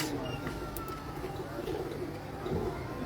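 Champion pigeons coo softly and steadily at a Lahore rooftop loft, their low throaty calls repeating over a faint background murmur of voices.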